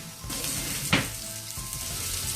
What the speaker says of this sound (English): Now what we're looking at doing is just browning this stuff off a little bit